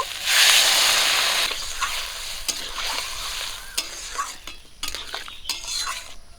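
Rohu fish and taro stir-fry in a pan with ginger, cumin and garlic paste. A loud hiss of frying opens the passage, then fades under repeated scraping and clinking stirs of a metal spoon against the pan.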